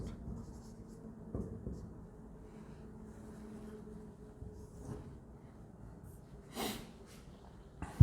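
Pen scratching across paper as a date is handwritten for an accounting journal entry, soft and close, in short strokes with faint breathing and a sniff in between.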